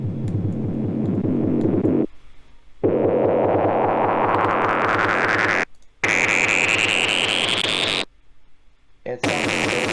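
Electronic sine-wave bass drenched in heavy distortion throbs loudly in a build-up whose pitch climbs steadily, cut by abrupt silent gaps between sections.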